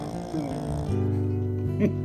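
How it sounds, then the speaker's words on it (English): A dog snores loudly and close by, a drawn-out low nasal rasp with a brief snort near the end. "Snoring dogs and all."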